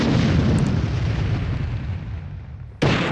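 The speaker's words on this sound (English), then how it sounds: "How many bazooka rounds does it take?" Bazooka rounds exploding in Army Men Sarge's Heroes, a loud sustained explosive roar that slowly fades, then a second blast cuts in sharply near the end.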